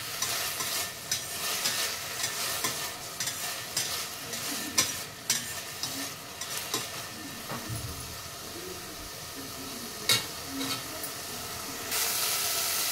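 Lightly boiled ingredients frying in hot oil, a continuous close sizzle and hiss broken by occasional scraping stirs, with a louder steady hiss near the end.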